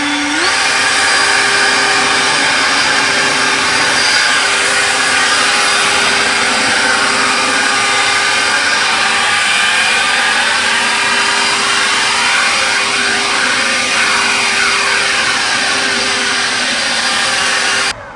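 EGO cordless battery power tool running steadily at turbo setting, a loud continuous high-pitched motor whine with a slight shift in pitch early on, sustained without pause and no talking.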